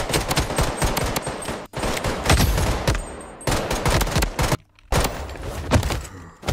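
Gunfire in the Blood Strike video game, a loud, dense stream of rapid shots in long bursts, with brief pauses and a sudden cutout near the end.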